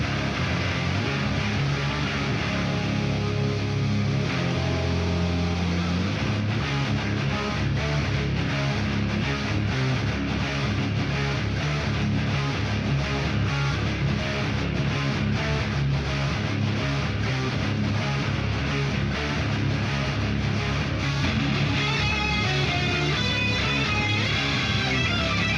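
Bass and distorted guitars from the meathead section of a heavy rock song, mixed together as a dense, loud, continuous wall of riffing that runs steadily without any speech.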